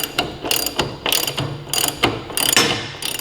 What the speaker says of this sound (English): We'll then take the ratchet while I'm holding the tire to keep pressure on it.